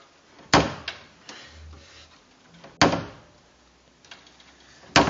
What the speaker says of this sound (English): And when I open the door,